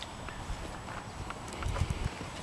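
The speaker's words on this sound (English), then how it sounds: "Gorgeous horse, Ian. You gorgeous horse, aren't you?" Horse hooves clip-clop at a slow walk at the Irish National Stud, a few soft, uneven steps that grow louder near the end over quiet outdoor ambience.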